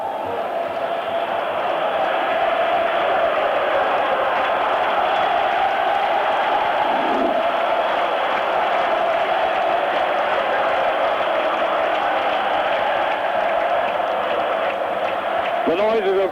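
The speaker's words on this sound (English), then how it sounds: "The noises of triumph floating over the Roman hills." A large football stadium crowd in Rome roars and cheers without pause at a European Cup match between Roma and Dundee United, a dense, steady wall of noise from start to finish.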